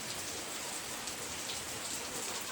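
Heavy morning rain on a farm falls in a steady, dense hiss of countless drops on surfaces, continuous and fairly close with no voices.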